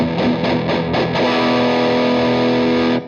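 An electric guitar through a mini amp with the gain pushed high and the bass control dialed in, sounding slightly woolly. A few quick, saturated picked notes lead into a held, fizzy distorted chord that rings out loud and alone.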